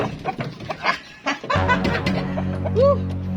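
Several sharp chicken clucks from a chicken coop over a steady low hum, the calls loud and close, ending in a rising squawk.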